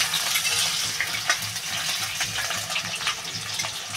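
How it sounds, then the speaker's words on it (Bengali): Cut potato pieces frying in hot oil in a home kitchen give a continuous, close sizzle with crackling bursts and a faint stirring clatter. No one speaks over it. "আলুটা একটু লাল লাল করে ভেজে নেব"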